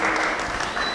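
A live audience claps briefly during an endurance athlete's talk, a short dense burst of applause close by.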